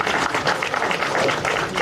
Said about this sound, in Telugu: అందరూ బిగ్ క్లాప్స్, అందరూ గట్టి కొట్టాలి